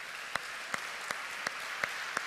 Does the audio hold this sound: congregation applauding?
yes